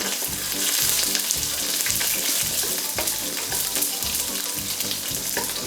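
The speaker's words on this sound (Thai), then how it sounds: "แล้วก็หอมแดงค่ะ ใบกระวานแล้วก็ลูกกระวาน เราจะคั่วให้เขาหอมๆ" Shallots, ginger, bay leaves and cardamom roast in a hot pan, a steady loud sizzle with rhythmic scraping of a spatula stirring them, close and continuous with no talking.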